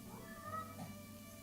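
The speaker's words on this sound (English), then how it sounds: "But a cat is meowing, and it sounds like this sort of meow for attention, let me out." A cat meows for attention indoors, a faint, drawn-out plea as if asking to be let out, sitting low under steady background hum.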